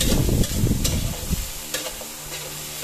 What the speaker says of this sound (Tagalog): Nalagay tayo ng oyster sauce.